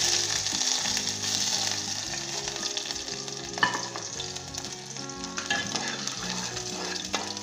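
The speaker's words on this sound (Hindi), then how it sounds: "एक से 2 मिनट तक हम इसे फ्राई करेंगे, लाइट गोल्डन ब्राउन होने तक" Garlic frying in smoking-hot mustard oil for a Bengali masoor dal, a steady close sizzle and crackle with occasional stirring clinks of a utensil against the pan, and no talking.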